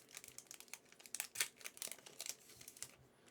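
Foil-wrapped trading card booster packs being torn open for a Magic Secret Lair, a dense run of quiet crinkling and ripping foil, close and faint, with no talking.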